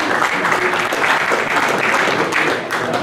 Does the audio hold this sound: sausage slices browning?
no